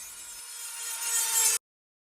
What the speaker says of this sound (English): I remove the excess metal with a grinding tool that cuts away the protruding metal.